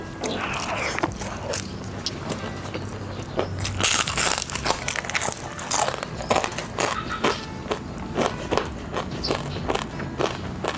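Spinach crackers crunched while eating outdoors after foraging wild vegetables and mushrooms: repeated crisp bites and crackly chewing, close to the ear, over a busy background with faint voices.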